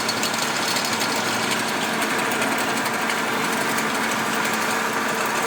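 An extruder with a 15 kW motor and three belts runs while making sticks for animals, a continuous high-pitched mechanical whine and hum that stays steady and loud with no talking.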